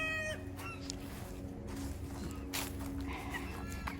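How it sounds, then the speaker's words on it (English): Turkeys in an outdoor farm pen, with scattered clucks and fowl calls through a steady outdoor background, fairly distant and without talk. "This is the other side of the turkey pen."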